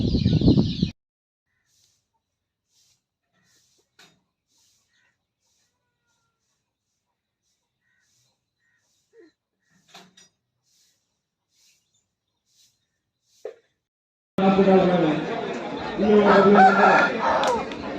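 A rooster and hens on a farm: a brief crowing burst at the start, then near silence with faint scattered clucks and ticks, before loud, close squawking and calling returns at the end.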